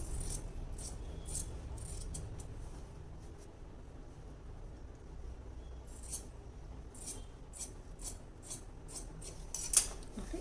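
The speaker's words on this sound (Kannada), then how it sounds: "ಆಮೇಲೆ ಏನು ಈ ಎಕ್ಸ್ಟ್ರಾ ಮಾರ್ಕಿಂಗ್ ಹಾಕಿದ್ನೋ ಅದನ್ನು ಮಾತ್ರ ಕಟ್ ಮಾಡ್ತೀನಿ" Scissors snipping through plain blouse fabric along chalk markings, faint crisp blade clicks and cuts scattered in short clusters over a quiet room hum, with no talk.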